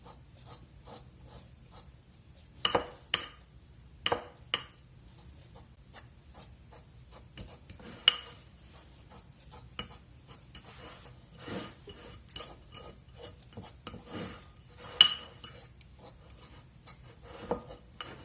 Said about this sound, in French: Et ce jaune, on va l'écraser à la fourchette.